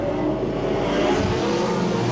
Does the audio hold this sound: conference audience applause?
no